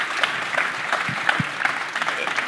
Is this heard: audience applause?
yes